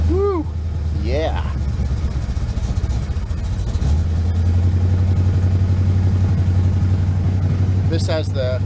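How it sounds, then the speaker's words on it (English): Engine on a car fitted with Fitech fuel injection cranks and catches around the middle, then settles into a steady, close idle. Chirping sounds come before it starts. "This has the Phytec fuel injection, and it's always worked pretty good, so starts right up."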